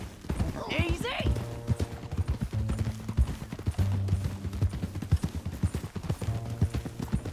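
Horse hooves clip-clopping in a Red Dead Redemption 2 canyon ride, a steady close rhythm running under talk, with a brief whinny near the start and a low hum beneath.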